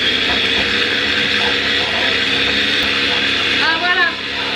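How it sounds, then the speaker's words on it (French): A kitchen blender whirs steadily while it mixes pancake batter, giving a loud, continuous motor drone throughout, and a brief voice comes in near the end. "C'est la danse du mixeur."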